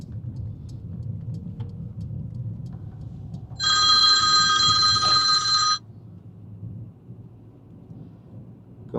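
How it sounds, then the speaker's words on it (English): A mobile phone inside a car rings for about two seconds with a bright, steady electronic tone for an incoming message, over the low road rumble of the moving vehicle. "it wasn't your phone, it was my phone. Somebody's messaging me."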